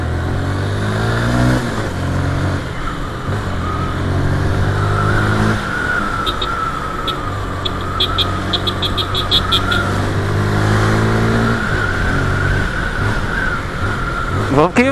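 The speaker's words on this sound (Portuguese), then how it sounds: "Esse escapamento original é foda." A car on its original exhaust revs and pulls through traffic, the engine note rising and falling steadily for the whole stretch, with a voice speaking over it.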